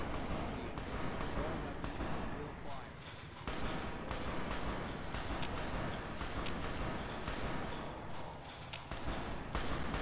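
Gunfire in Fallout: New Vegas sounds as sharp, rapid shots popping through a busy, dense mix, with a few brief lulls between bursts.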